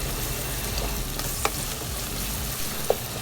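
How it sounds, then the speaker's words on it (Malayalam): Sliced onions with salt sautéing in a pan for a Kerala-style beef curry, a steady soft sizzle with two brief utensil clinks against the pan. "നല്ല അടിപൊളിയായിട്ട് ഇത് വഴറ്റി എടുക്കാം കേട്ടോ"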